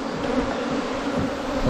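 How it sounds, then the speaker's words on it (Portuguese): Apis honeybees buzz in a dense, continuous swarm hum during a rescue from a hollow tree, close and fairly loud. "Quanta abelha, hein?"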